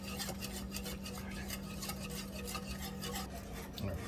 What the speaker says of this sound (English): I've been whisking it and whisking it.